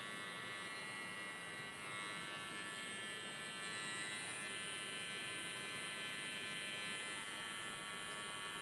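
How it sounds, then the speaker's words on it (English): Gold Babyliss hair clippers fitted with a taper blade run continuously, a steady quiet electric hum and buzz held at even level for several seconds, with no voices. "I've got the Babyless clippers, the gold ones. They have a taper blade on them."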